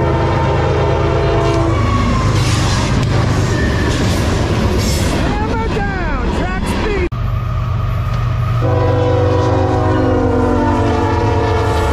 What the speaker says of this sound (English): Give me a horn show.